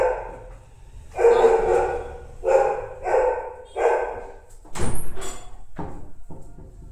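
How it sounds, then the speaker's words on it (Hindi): A pet dog barks indoors in a run of four or five loud, close woofs spaced about a second apart, followed by a clattering knock like a door and some softer shuffling. "वो डॉगी भूखने लगी थी ना"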